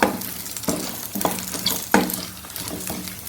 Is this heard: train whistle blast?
no